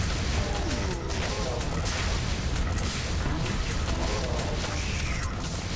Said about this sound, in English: So we just randomly fire our missiles around, or rockets, whatever these are.